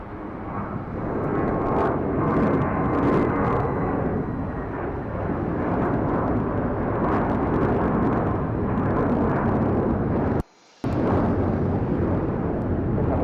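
A JetBlue airliner roars past at LAX, a loud, sustained broadband jet rumble filling the scene, with a brief dropout near the end before the engine noise resumes.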